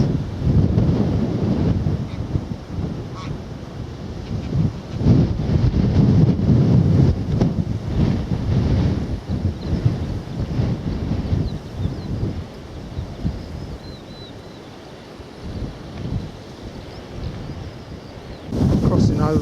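Steady gusts of wind buffet the microphone, rumbling loudly in low, uneven surges for the whole stretch.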